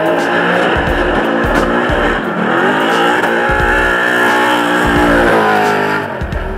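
Drift cars, among them an R32 Nissan Skyline, scream through a slide with loud sustained tire squeal and skidding over a roaring, revving engine, close and intense throughout.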